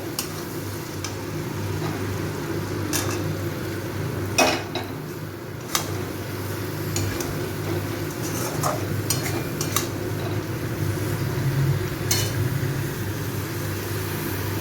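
Eggplant fried with dried lote fish in a pan, a steady loud sizzle with occasional metallic clinks and scrapes of a utensil on the pan, close by and without speech.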